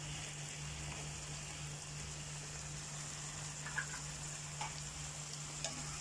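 Tuna in sweet and sour sauce stirred in a pan, a steady soft sizzle with a few faint scrapes of the spoon, close and continuous, with no talking.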